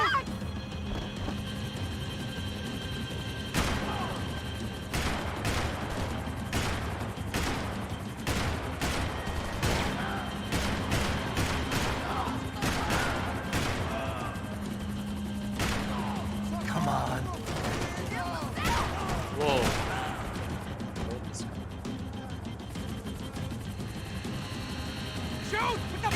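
Bursts of rapid gunfire fill a Max Payne 3 firefight, with repeated sharp shots and volleys spread unevenly across the stretch, loud and close, alongside game dialogue and player chatter.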